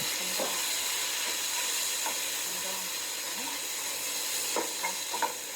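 Soft, steady sizzling and hiss of mushrooms and meat stir-frying in a pan, with occasional light clacks of a utensil stirring, fairly close and continuous.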